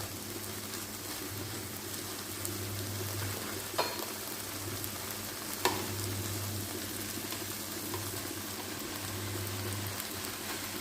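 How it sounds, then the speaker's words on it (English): Vegetables stir frying in an open pot give off a steady, continuous sizzle with faint stirring scrapes and a low, constant hum beneath it, and no one talks. "I'm not steaming, I'm stir frying"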